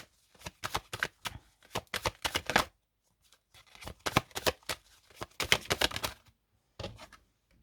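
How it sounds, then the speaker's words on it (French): Oracle cards being shuffled and laid out by hand, with rapid bursts of riffling, flicking and tapping in short clusters broken by brief pauses, close and crisp with no voices. "je vais mettre une carte de l'oracle"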